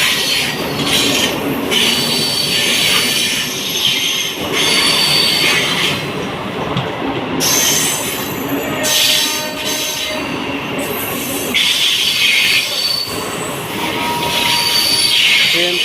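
A Mumbai local train runs past near Andheri station, its wheels squealing loudly and continuously on the rails with rhythmic clatter, close by and rising and falling as the carriages pass.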